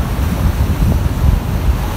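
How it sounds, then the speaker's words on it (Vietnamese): Sea waves roll onto a beach at Vung Tau, Vietnam, making a loud, continuous surf rumble with wind buffeting the microphone and no voices. "Sóng bây giờ nó xuống rồi nè"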